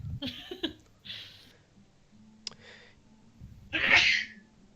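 One loud, sharp sneeze near the end, after quiet breathing and a few small shuffling sounds.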